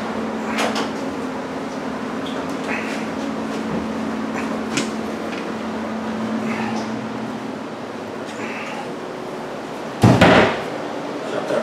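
Interior doors are shut inside a house, with a few faint knocks and handling sounds followed by one sharp, loud slam near the end.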